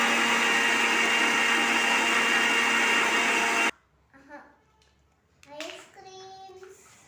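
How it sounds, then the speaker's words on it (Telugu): A kitchen mixer grinder purees fried tomato pieces for tomato pickle with a loud, steady motor whir. It cuts off abruptly after about three and a half seconds, and a voice then speaks. "టమాటా ముక్కలు వేయించి పెట్టుకున్న మొత్తం ముక్కలు అనేవి మిక్సీలో వేసేసి మిక్సీ పట్టుకోవాలి."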